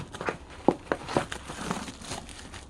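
Packaging around a genuine Sony charger is handled during unboxing, giving soft close crinkles and a few sharper crackling snaps in an irregular rhythm, with no voices.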